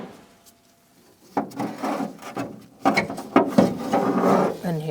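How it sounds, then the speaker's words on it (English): Scraping, ratcheting mechanical noises come from unscrewing the front window from its regulator on a 2000-2006 Mini Cooper, arriving in close bursts after a quiet start, with a voice briefly audible. "you're going to disconnect the window from the regulator by unscrewing this completely"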